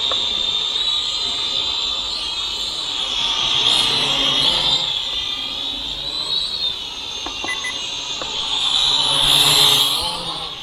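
A high, whining buzz of a Syma X5 toy quadcopter drone hovers nearby, its pitch rising and falling as it maneuvers, with a voice talking intermittently.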